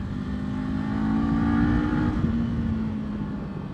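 A 2024 Kawasaki Z500 motorcycle engine holds a steady drone, its pitch rising gently as it accelerates, loud and close with no voices.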